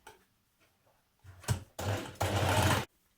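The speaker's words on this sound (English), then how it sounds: "you're going to sew all the way along" A sewing machine stitches a T-shirt side seam in short runs, a brief whir followed by two longer steady buzzing bursts, close and fairly loud, then stopping.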